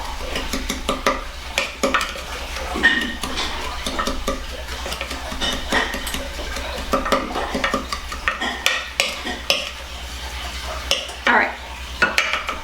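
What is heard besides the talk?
mixing cinnamon and brown sugar in a bowl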